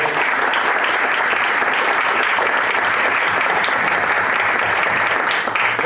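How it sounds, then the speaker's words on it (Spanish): Audience applause for a round-table panel at a research and innovation conference on scientific journals, dense steady clapping filling the room, close and sustained throughout with no voices over it. "Les vamos a dar un aplauso que se lo merecen."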